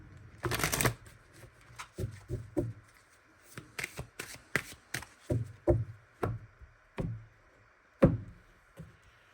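Romance Angels oracle cards being shuffled by hand: one quick riffle burst at the start, followed by a run of distinct soft taps and slaps as cards are cut and squared, close up with no voices.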